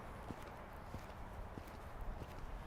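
A horse canters in a show jumping lesson, its hooves landing in a regular, muffled three-beat rhythm, fairly faint and distant, under steady ambient noise.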